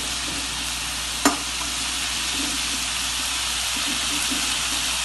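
A pan of beans kootu, a Tamil bean dish, bubbles and sizzles steadily on the stove, with one sharp clack of a utensil near the start and soft scraping stirs over the constant fry.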